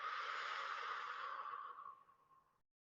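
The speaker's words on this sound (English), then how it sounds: "We breathe out through the mouth as if we're breathing out a straw." A long, steady breath pushed out through pursed lips, as if through a straw, during a calming breathing exercise; close and breathy, fading gradually over about two and a half seconds.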